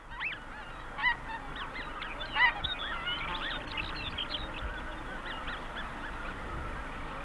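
Snow geese honk on the open tundra in a busy run of overlapping calls, several sharp honks standing out near the start, then a steady chorus from a flock at middle distance.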